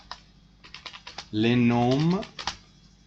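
Quick bursts of clicking keystrokes on a computer keyboard, close and crisp, briefly interrupted by a short spoken phrase before the tapping resumes.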